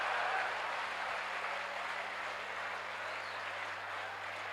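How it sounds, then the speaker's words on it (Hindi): Applause from the audience at a Hindi comedy poetry gathering, a soft, steady wash of clapping heard from a distance with no distinct individual claps. "ताली कमजोर है यार"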